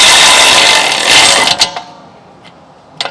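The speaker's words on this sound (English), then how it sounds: "we're going to use our electric wrench and start installing these together" Electric impact wrench driving bolts on Audi Q7 front brake parts: a loud continuous whirring run for about a second and a half, then stops, followed by a few short clicks and metallic taps.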